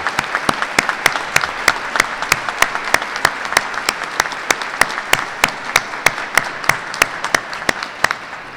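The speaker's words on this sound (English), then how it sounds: "Let's give all these outstanding teachers another round of applause" Applause for outstanding teachers at a Kentucky education awards ceremony, with one sharp clap close and loud in a fast, steady beat over a softer wash of crowd clapping in the hall.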